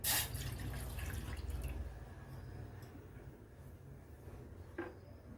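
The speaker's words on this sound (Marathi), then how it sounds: "बघा हे एक ग्लासभर पाणी ओतूया" A glass of water poured into a cooking pot on a gas stove: a short splashing gush at the start, then quieter trickles and faint drips in a still kitchen.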